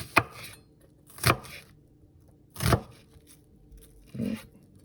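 Knife slicing food across the grain on a board while making falafel, four separate close chopping strokes spaced about a second apart.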